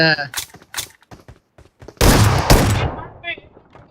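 Mobile multiplayer shooter match, Wow Mode 2v2, with a burst of loud close gunshots lasting about a second and a half, preceded by scattered short clicks and brief talking.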